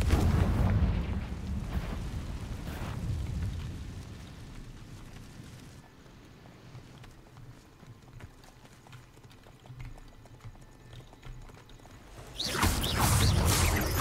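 A Confringo fire spell explodes in the Hogwarts Legacy video game: loud booming blasts at the start and again near the end, with quieter game ambience and footsteps-like clatter between.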